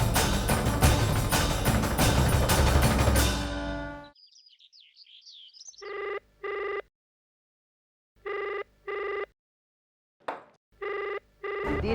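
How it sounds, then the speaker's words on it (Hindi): A telephone rings in repeated short bursts, loud and close, each ring separated by silence, following loud music that cuts off; a brief chirpy electronic tone precedes the rings. "दिन भर के 24 घंटों में 25 घंटे ये फोन आता है।"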